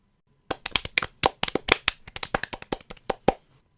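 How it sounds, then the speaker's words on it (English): A small group claps in a brief, crisp round of applause, a burst of sharp separate hand claps that quickly thins out and stops, with no voices. "I think a round of applause is in order."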